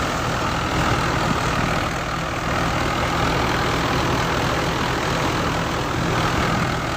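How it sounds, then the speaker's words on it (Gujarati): A tractor engine idles close by with a steady low rumble and constant drone, no talking, on a village farm. "તો આ દાદાનું ટ્રેક્ટર છે"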